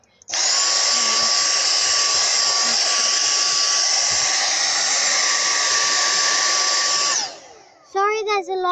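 A vacuum cleaner hoovering the inside of a car runs as a loud, steady high-pitched whine and rush for about seven seconds, then winds down and cuts off, followed by a brief voice.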